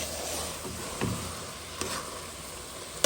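Massalé spice mixture cooking in a pan for a swordfish and aubergine dish, a steady soft sizzle with a few faint stirring scrapes, fairly quiet and with no voices.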